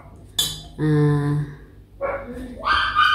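A dog gives a few short barks and yelps, with some clinking of dishes in the background.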